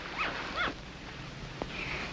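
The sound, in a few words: dog whimpering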